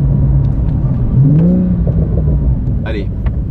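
A Porsche 911 Sport Classic, a rear-drive turbo with a manual gearbox, gives a short rising engine pull heard from inside, with someone talking over it.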